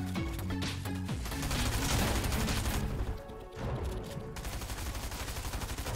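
Fortnite gunfire, loud rapid bursts of shots layered over game music, easing off briefly in the middle before the firing resumes.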